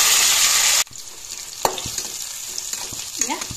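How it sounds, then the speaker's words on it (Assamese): Boiled potatoes fry in oil in a pan, starting with a loud, steady sizzle that cuts off abruptly, then quieter stirring clicks and light crackle follow. "এতিয়া আলুখিনিও ফ্ৰাই কৰি লওঁ বইল কৰি থোৱা আলুখিনি"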